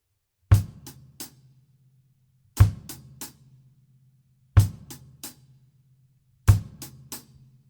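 A drum kit plays four spaced groups of triplet strokes, each group opening with a deep bass drum thump under the first of three sharp, decaying snare hits. The groups come loud and close, with silence between them.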